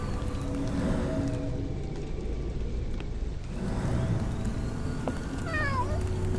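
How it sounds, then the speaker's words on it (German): A cat meows in the video game Sherlock Holmes The Awakened, set in rainy weather at a London harbour, with a drawn-out cry heard close over steady rain and ambient noise. "Katze."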